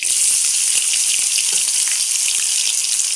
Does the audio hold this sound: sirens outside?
no